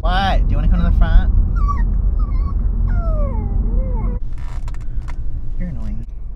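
A puppy whimpers and cries in a car, high wavering whines repeating over a steady road rumble, with a person talking to it in between.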